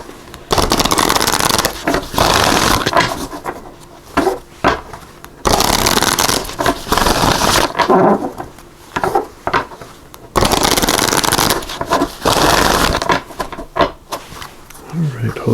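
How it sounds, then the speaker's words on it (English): Cards from a Return of Spirit oracle deck are shuffled in repeated loud, close riffling bursts separated by short pauses, with a voice speaking in the gaps. "I'm going to start off by pulling a card from this Return of Spirit deck here"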